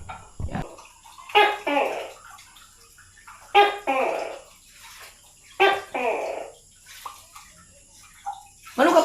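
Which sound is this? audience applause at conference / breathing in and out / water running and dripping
water running and dripping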